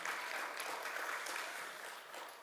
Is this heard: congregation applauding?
yes